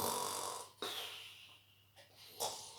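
A storyteller's voice imitates an ogre snoring loudly, with a few drawn-out, rasping snore breaths separated by short pauses, quiet and close.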